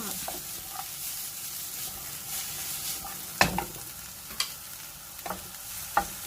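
Green and red chilies and cabbage stir-fried in a pan for spicy Korean-style noodles, giving a soft steady sizzle with a few sharp spatula scrapes and clinks, close by and moderately quiet.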